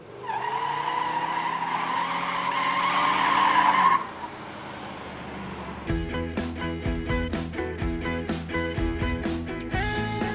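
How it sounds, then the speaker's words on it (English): A 1966 Chevelle SS396 with its 396 V8 and 4-speed spins its skinny tires in a loud, rising squeal, then the big engine barks through a series of choppy, pulsing revs. "spinning the skinny tires all the way"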